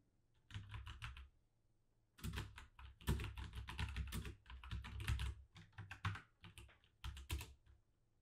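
Close, quiet computer keyboard typing: bursts of rapid key clicks entering a terminal command on an Ubuntu system, with brief pauses between runs of keystrokes and no talking.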